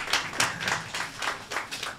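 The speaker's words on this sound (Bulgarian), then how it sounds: "В противен случай за нас ще е приятно да снимаме с аплодисменти." An audience claps in a steady rhythm, about eight sharp, moderately loud claps spread evenly, with no voices.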